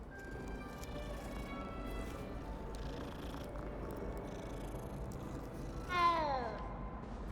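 Low continuous purring from a cat in the video game Hogwarts Legacy, fairly quiet, with a short meow rising near the end.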